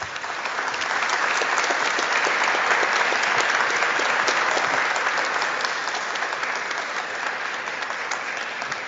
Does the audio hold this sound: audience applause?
yes